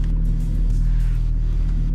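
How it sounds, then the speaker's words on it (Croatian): A BMW 525 TDS with an aluminium-block engine idles while warming up, giving a steady, close, deep rumble with an even throb that holds without revving and has no voices over it. "sačekat ćemo prvo malo da se auto zagrije"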